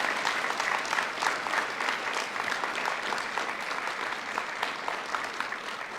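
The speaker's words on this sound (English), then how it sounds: "Can we give all of our award recipients a round of applause at this time?" Steady, dense applause fills an audience at a Tampa Police Department quarterly award ceremony, holding evenly loud for about six seconds with no break.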